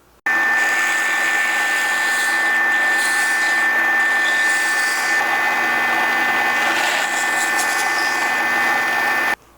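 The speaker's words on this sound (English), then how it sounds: "So let's go drill these holes" Power drill boring holes through a board for a woodworking tenon jig, a continuous high whining motor that runs steadily for about nine seconds after a brief quiet start, loud and close.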